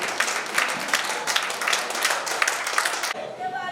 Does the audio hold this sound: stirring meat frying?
no